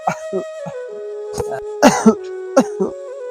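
A sick man coughs and clears his throat several times in short, close bursts, spaced irregularly over a steady background hum.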